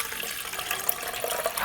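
Water runs steadily into a pot, a continuous close splashing hiss with no talking.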